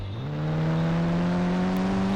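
A car engine in a video game drones steadily and loudly, its tone rising briefly at the start and then holding an even, humming pitch with no other sounds.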